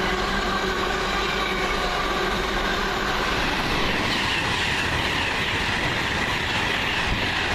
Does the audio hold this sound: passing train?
yes